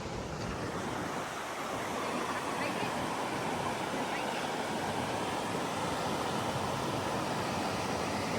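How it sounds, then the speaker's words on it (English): A river in Zion National Park crashes against rocks, a steady broadband roar of rushing water that holds constant and fairly loud throughout, with no clear voices over it. "it just sounds beautiful hearing the river just crash against the rocks"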